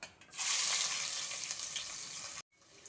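Onions hit hot oil in a pan for chicken biryani: a loud sizzle flares up after a quiet start, holds steady and bubbling, then cuts out briefly before a softer sizzle resumes.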